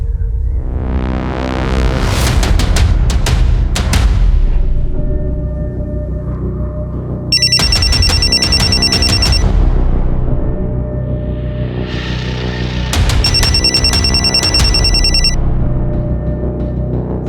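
A telephone rings loudly in bursts, a synthetic electronic ringtone repeating in two long trilling phrases over a sustained dramatic music bed, with no talking.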